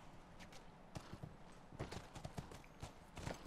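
Horse hooves clip-clopping in The Last of Us, a run of quiet, uneven hoof strikes at a walking pace, heard at a modest distance.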